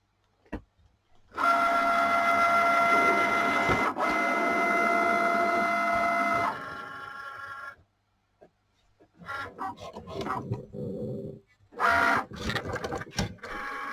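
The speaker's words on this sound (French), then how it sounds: "la Cricut est partie pour la découpe." A Cricut cutting machine runs through a shadow box cut, first as a long steady whirring hum, then after a pause as short jerky motor bursts and clicks, close by and with no talking.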